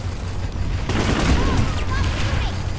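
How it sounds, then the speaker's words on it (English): A burst of rapid gunfire from a teammate in a sci-fi multiplayer shooter, a dense rattling crackle lasting about two seconds, close and loud, mixed with voices and other game noise. "Tom shooting me"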